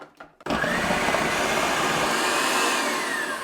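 A food processor slicing potatoes bursts on loudly and keeps a steady, dense whirring roar with blade chatter, preceded by a few quiet knocks before the motor starts.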